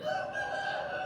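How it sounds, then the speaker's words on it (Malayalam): A rooster crows close by, one sustained, loud, strained call that fills the whole moment with no voices. "ആകെ രണ്ട് മൂന്ന് കോഴിയുള്ളൂ പക്ഷെ ഭയങ്കര സൗണ്ടാണ്"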